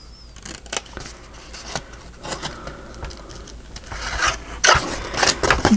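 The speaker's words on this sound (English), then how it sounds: "And I'm cutting on this side of the line to get rid of it." Scissors snip through scored cardstock while a file folder journal is being made, giving a run of sharp irregular cuts and rustles up close that grow busier and louder toward the end.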